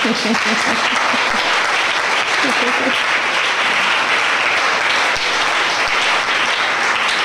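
Church congregation applauding during a worship service, a steady dense wash of clapping that fills the whole stretch, loud and close, with faint voices mixed in.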